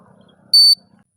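Buzzer of an RF433 12V single-channel wireless remote control switch gives one short, shrill beep during a range test, clear over faint background noise.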